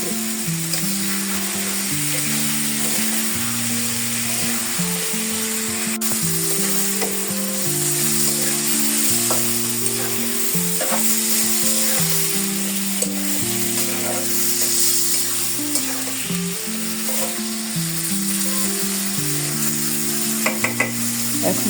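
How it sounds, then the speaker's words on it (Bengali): A vegetable stem curry with fish is sautéed in a pan, giving a loud, continuous sizzle and frying hiss that lasts throughout. Soft tonal background music plays underneath, with a few light utensil clicks near the end. "আমি তরকারিটা অনেক ভালো করে কষাই নিচ্ছি"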